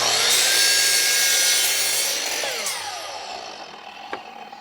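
A Stanley SM18 sliding miter saw cuts through thick wood at an angle, with a loud, close, whining motor and blade noise that fades as the cut ends and the blade spins down, followed by a small knock.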